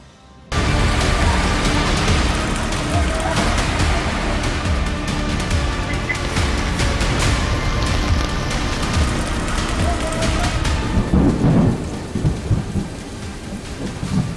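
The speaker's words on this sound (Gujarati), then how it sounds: "પ્રચંડ વરસાદથી પાણી પાણી।" Torrential monsoon rain pounds down in South Gujarat, a dense, loud, unbroken roar of water with rumbling thunder underneath that slightly eases toward the end.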